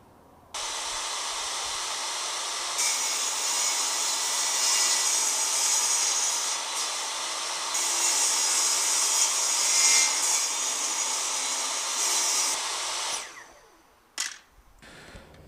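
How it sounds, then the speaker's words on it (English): A powered saw cuts wood for a fretboard radius block in a long, steady, loud whirring rasp that surges slightly mid-cut. It winds down near the end, followed by a couple of sharp knocks. "I've used the old choppy saw to cut off some crappy bits"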